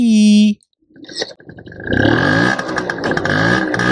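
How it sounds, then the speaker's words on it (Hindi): A scooter engine revs and pulls away close by, its buzzing motor rising after a brief tone and a few clattering knocks. "ये स्कूटर की साउंड अच्छी है, जाने वाली साउंड अच्छी।"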